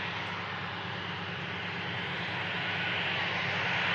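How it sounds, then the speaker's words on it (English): An EasyJet Airbus A319 arriving from Venice gives a steady, broad engine roar that builds slightly over a few seconds, heard from a distance with no one talking. "A319 arrived in from Venice"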